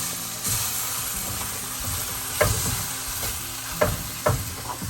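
Egg and carrot fry in a pan on high heat while being stirred, a steady sizzle broken by several sharp scraping strokes of a spatula against the pan.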